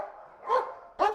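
Two quick, loud barks from a Dutch Shepherd police K-9 trained for drug sniffing, close by and separated by about half a second, with a whining tone running underneath.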